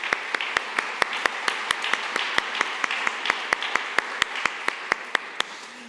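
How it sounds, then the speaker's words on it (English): Audience applause at the closing session of the 5th Baltic MSP Forum, a steady crowd wash running throughout with regular sharp claps standing out in an even rhythm. "So a round of applause to all of you."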